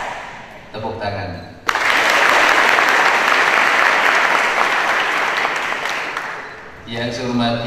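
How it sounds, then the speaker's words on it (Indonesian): An audience at a school speech event at SMA Taruna Nusantara breaks into loud, dense applause that lasts about five seconds. It starts sharply and fades back into a speaking voice, with talk briefly heard before and after. "Tepuk tangan."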